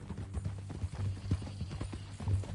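Horse hooves clip-clopping in Red Dead Redemption 2, a steady run of close, fairly loud hoof strikes with no talk over them.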